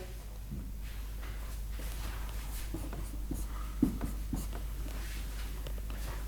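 Pen scratching across paper while series of numbers are written out, a steady soft scribble with small taps and strokes, close and quiet, alone with faint room hum.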